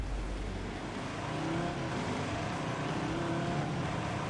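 A car powered by a 3.2-litre five-cylinder Transit van engine drives off, its steady engine drone and road roar holding loud and close throughout.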